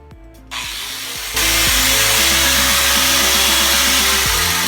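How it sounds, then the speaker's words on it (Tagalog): An angle grinder cuts through a metal cable tray, a loud, steady high-pitched whine that holds continuously and grows harsher and denser partway through as the disc bites into the metal. "we are going to cut the cable tray by using grinder"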